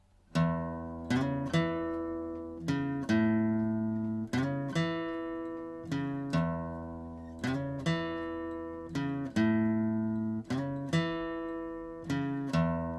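A plucked guitar lick repeated several times in a steady rhythm, clear and close, with ringing notes and short pauses between phrases.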